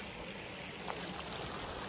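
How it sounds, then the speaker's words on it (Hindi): Water in a village stream flows steadily and close, a dense continuous rushing wash with no talk over it. "पानी बह रही हो देखो आप"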